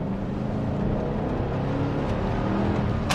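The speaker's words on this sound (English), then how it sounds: "Listen to that V8 sing." A full-size SUV's V8 engine in all-wheel drive accelerates hard on a test track, giving a steady, loud engine roar and whir that holds throughout with no pauses.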